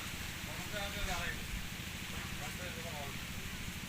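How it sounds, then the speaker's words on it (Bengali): Rain falls steadily near a riverside boat landing, a continuous broadband patter that fills the background while people talk over it. "বৃষ্টি নেমে গেছে"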